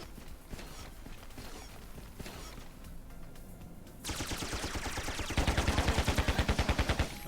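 Gunfire in the video game Carrier Command: Gaea Mission during a bunker assault: after quieter background noise, loud rapid machine-gun bursts start abruptly and keep going as a steady, fast stream of shots.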